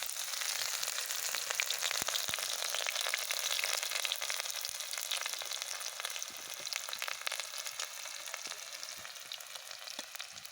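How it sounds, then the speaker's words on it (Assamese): Pork belly fries in hot oil with onions, a steady, close sizzle with crackling pops that carries on alone and unbroken, easing only slightly toward the end. "এয়া এতিয়া গাহৰি পেটু ভাজিম। এতিয়া তেলত এতিয়া এইপিনে পিঁয়াজ দি দিছোঁ।"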